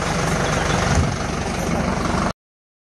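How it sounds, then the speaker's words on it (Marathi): A motorbike engine runs steadily close by, a dense, even drone with no talking that cuts off abruptly after a little over two seconds. "सो गाडयेचो आवाज येता आसतो तुमकां."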